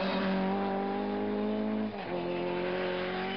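A vintage Ford Escort Mk II rally car sliding broadside through a gravel junction: a sustained engine drone holds steady, dips briefly as the car rotates, then picks back up. It is heard from a distance, with no voices.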